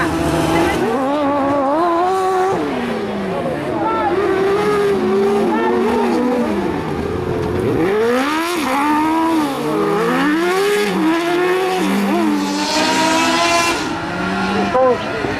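Fiat 500 stock car racing on a cross circuit at Conselve, spinning at a hairpin: a loud, continuous engine that revs up and down through wavering gear changes, with tire scrub and skidding noise.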